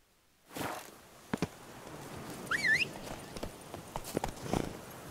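Horse hooves clip-clopping in The Witcher 3, a run of fairly close, evenly spaced hoof strikes with a brief whistle-like call partway through.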